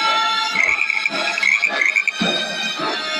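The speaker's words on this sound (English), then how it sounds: "Then came the frogs, countless in number, covering the land." A dense chorus of many frogs croaks continuously, loud and close, with overlapping rhythmic calls forming a steady throbbing wall of sound.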